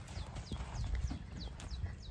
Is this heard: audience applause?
no